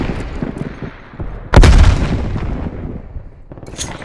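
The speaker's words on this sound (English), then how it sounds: "Throwing grenade." A grenade goes off in the online shooter Black Ops Cold War during a Team Deathmatch round, a single loud, close blast at mid-clip that rolls into a long rumbling decay over faint background game noise.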